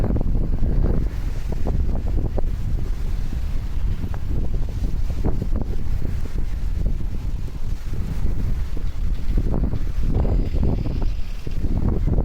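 Strong wind buffets the microphone in continuous gusty rumbles on a pier at Limassol beach, Cyprus, with water and surf in the background.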